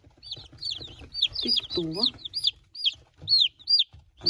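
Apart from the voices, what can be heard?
young rooster clucking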